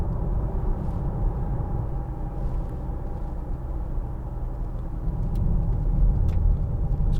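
A 2012 Land Rover Freelander 2 TD4 cruises along a rough motorway, giving a steady, close rumble of road and engine noise that holds throughout with no voices.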